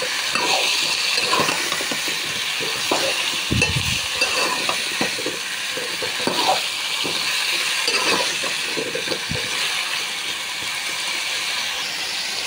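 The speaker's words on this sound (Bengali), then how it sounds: "এখন দিয়ে দিব মিষ্টি কুমড়াগুলো। তো আমি এখন নেড়ে ছেড়ে নেব একটু" Sweet pumpkin pieces fry in a pan and are stirred, giving a continuous close sizzle with frequent scraping and clattering from the utensil over about twelve seconds. No one speaks.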